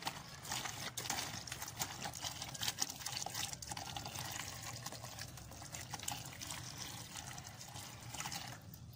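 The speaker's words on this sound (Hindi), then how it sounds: "इसमें हमने पानी डालना है।" Water pours and splashes onto cow dung manure being mixed as garden fertilizer, a continuous close trickling and sloshing with irregular wet knocks, steady in level throughout.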